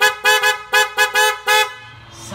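A dual snail horn newly fitted to a Nissan Versa honks in a quick series of seven short, loud, bright blasts, with a faint noise afterward.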